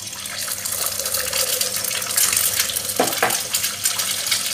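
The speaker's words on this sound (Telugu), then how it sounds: "ఇప్పుడు ఆయిల్ వేడి కాగానే మనం ఫస్ట్ దీంట్లో ఎగ్స్ వేసేసుకోవాలి." Eggs dropped into hot oil for egg fried rice set off a steady, loud sizzling hiss that runs continuously, with a couple of sharper crackles near the end.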